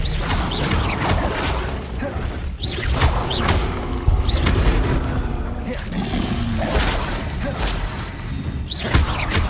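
Spell blasts in Hogwarts Legacy combat: repeated whooshing bursts and crashing impacts roll on steadily alongside roaring creature cries, loud and close throughout.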